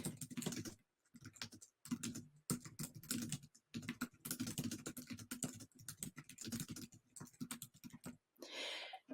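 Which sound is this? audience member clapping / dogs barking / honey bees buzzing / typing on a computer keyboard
typing on a computer keyboard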